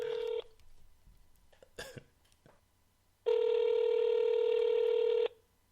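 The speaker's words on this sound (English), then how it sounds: "We're calling him." A telephone is dialed to place a call: a short tone, then a few faint keypress clicks, followed by a loud, steady ringback tone lasting about two seconds, with no talk.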